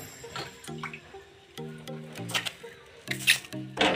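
Water dabbed by hand onto a jowar bhakri flatbread on a hot griddle makes quiet, close, irregular wet drips and small squishy taps, scattered over a few seconds with no talk.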